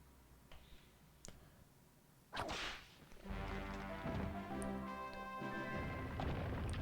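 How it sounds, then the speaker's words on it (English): A whip cracks in the Indiana Jones video game with a sharp swish, then a bright game soundscape swells with layered music and effects, all fairly quiet overall. "I might be able to whip that thing."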